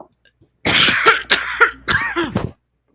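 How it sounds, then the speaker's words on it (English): A woman coughs in a close, loud burst of several rough coughs with brief gaps during an online game night stream, then falls silent. "She's coughing, mate."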